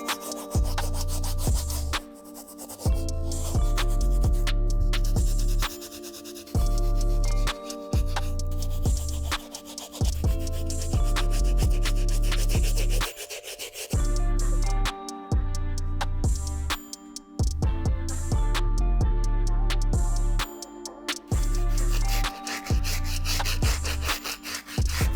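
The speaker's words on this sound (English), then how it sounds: "Now we're going to move on to our stiff bristle brush to hit the midsoles and the outsoles." A stiff bristle brush scrubs the midsoles and outsoles of heavily soiled Air Jordan 1 Travis Scott sneakers, giving steady rasping strokes with short pauses, partly masked by loud continuous background music.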